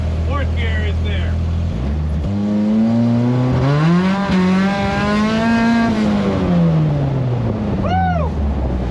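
A cheap track-ready race car engine climbs in pitch after shifting into fourth gear, a loud rising drone that plateaus and eases off while a voice speaks over it.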